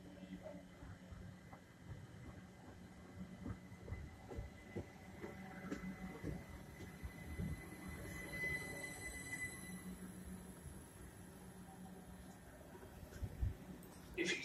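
A train runs on rails, with a steady rumble, faint wheel squeal and rattling over about fourteen seconds, heard from nearby at low to moderate loudness.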